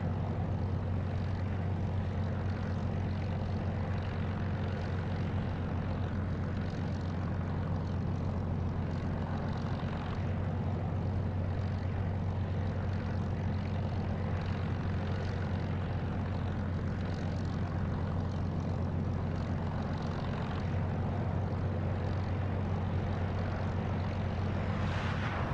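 A Spitfire propeller fighter in DCS World takes off, its engine holding a steady, loud droning roar with a low hum throughout, no voices over it.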